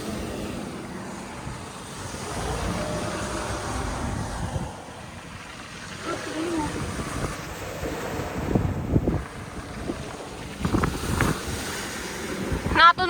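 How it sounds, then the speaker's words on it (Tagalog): Waves surge and wash back over rocks on a beach below Malabrigo Lighthouse in Lobo, Batangas, a broad rushing wash with wind buffeting the microphone and a few louder surges near the end. "Bumabalik yung alon."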